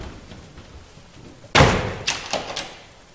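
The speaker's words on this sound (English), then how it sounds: "Did he lock that door?" A door is pulled shut with a sharp, heavy slam, followed by a few lighter clicks and rattles as it is locked, close by with no talking.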